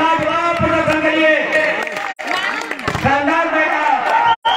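An outdoor crowd at a night volleyball match in a village claps and cheers continuously under a loud announcer's voice, with a couple of brief dropouts.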